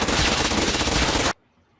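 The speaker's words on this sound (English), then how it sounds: "that's the Glock 18. So just I guess have fun with controlling the recoil of this thing." A Glock 18 pistol fires a fast full-auto burst in a shooter game, a loud, dense rattle of rapid shots lasting just over a second before cutting off sharply to silence.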